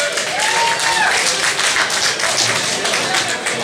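An audience at a 2023 carnival song contest applauds, a thick, continuous wash of clapping and some cheering that stays full throughout.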